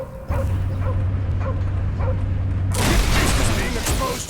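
Cosmo the dog, a canine character in the Guardians of the Galaxy video game, barks several times in a steady rhythm over a low droning tone, then a loud burst of action noise swells in and takes over.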